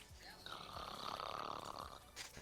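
One person gives a single drawn-out snore, a faint, rough nasal rattle lasting about two seconds that plays through a voice chat during a game.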